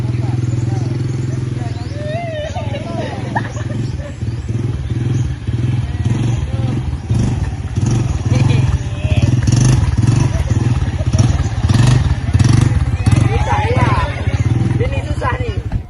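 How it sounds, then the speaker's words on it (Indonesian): Motorcycles putter and rev at low speed around a schoolyard during a two-wheeler licence test run by police, engines droning steadily with clatter, under crowd chatter and talk throughout. "polisi pun tak sungkan mempraktikkan langsung tata cara ujian SIM kendaraan roda 2 di halaman sekolah"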